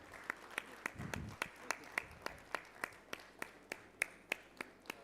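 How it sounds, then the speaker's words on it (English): An audience at a national mining ministers' conference gives a round of applause for Rajasthan, sounding as a sparse series of individual hand claps at a fairly even, brisk rhythm, faint and thin in a large room. "so a big round of applause for Rajasthan"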